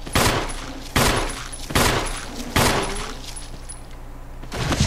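Heavy gunshots in the Resident Evil video game, five booming blasts spaced about a second apart, each with a long decaying reverb tail, loud and close.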